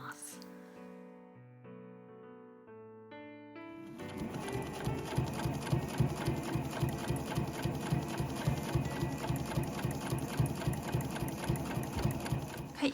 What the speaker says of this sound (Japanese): 全て留め終えたらぐるっと一周 8mm で縫っていきます